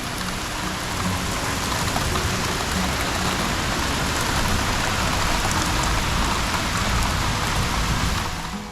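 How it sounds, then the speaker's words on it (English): Heavy rain pours down steadily, a dense, constant hiss of drops hitting surfaces close by, with no voices. "the rain before was coming down like hell"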